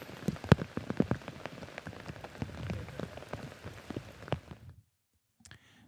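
Rain falls steadily on a very rainy disc golf course, a dense patter of drops with sharp close splats and clicks over a soft continuous hiss. It then stops abruptly near the end.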